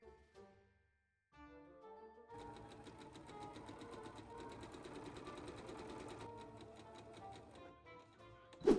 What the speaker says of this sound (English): And then I sew on the 2 side front pieces.